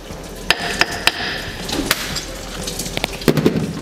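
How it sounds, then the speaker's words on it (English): A hammer taps on the cap of a BMW rear differential as the cap is worked off, giving several sharp metallic knocks spaced irregularly over a few seconds, close and fairly loud with shop noise behind. "A bit help of a hammer."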